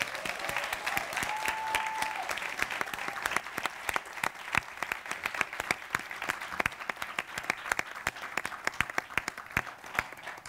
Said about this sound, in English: please come up on the stage and bask in some richly deserved applause